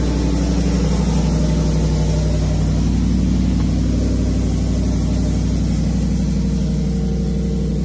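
Ford truck engine rated around 760 horsepower, loud and close, holding a steady heavy revving drone with a slight rise partway through and no talk.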